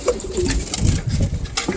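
Pigeons in a breeding loft coo in low, soft murmurs with some rustling and movement around them, fairly close and steady throughout.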